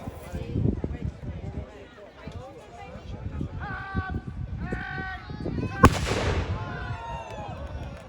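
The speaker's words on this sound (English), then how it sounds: "Sylvester is a hand cannon, not a pole gun." A single sharp hand cannon blast booms out at Arundel Castle amid a crowd of people talking and calling nearby, with the chatter continuing after the shot.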